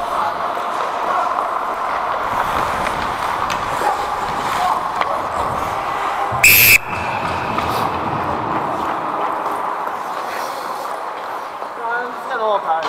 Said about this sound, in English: The whistle went up